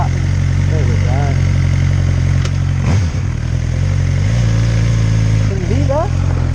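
A motorcycle that needs the clutch pulled in to start, fired up with the bottom button, settles into a steady, close idle; a person talks over the engine throughout.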